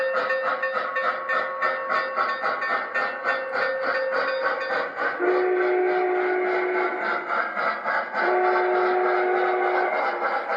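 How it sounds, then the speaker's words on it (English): A model train runs on a home layout, its whistle sounding loud and close in long sustained tones that shift pitch partway through, over a steady rumbling run. "Love that train."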